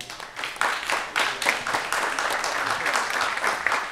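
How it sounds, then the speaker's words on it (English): An audience at a Philadelphia community event gives a round of applause, a dense, fairly distant patter of clapping that holds steady for several seconds. "give yourself a round of applause"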